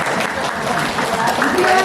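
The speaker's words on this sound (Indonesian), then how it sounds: "Tepuk tangan untuk kita semua." Clapping from a group in a school discussion session, a dense, continuous patter of hands that stays steady throughout, with a voice talking over it.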